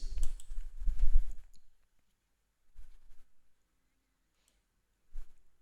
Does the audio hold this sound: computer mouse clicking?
yes